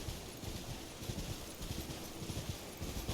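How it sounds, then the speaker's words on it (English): Horse hooves clip-clop steadily in Elden Ring, a quiet, even rhythm of repeated thuds over a soft ambient game background with no talk. "switch this to our horse"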